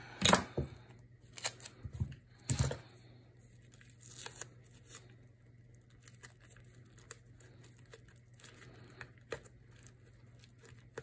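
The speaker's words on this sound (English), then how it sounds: "Add some more duct tape in places where I just want to keep it put" Duct tape is pulled and torn off the roll in a few short, sharp ripping bursts near the start while building a Halloween cloche tree, followed by quieter crinkling and handling sounds over a low steady hum.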